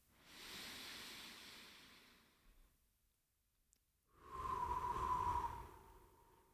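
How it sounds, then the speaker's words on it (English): Deep breathing during a mindfulness exercise: a long airy inhale through the nose, a pause, then a fuller, louder exhale out through the mouth, close and alone. "So in through the nose and out through the mouth."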